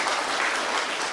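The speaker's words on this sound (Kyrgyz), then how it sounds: "рахмат, кол чаап колдоп атканыңыздарга." Dense, even applause from a television studio audience backing a candidate on a Kyrgyz political debate show, brief and steady with no voices on top.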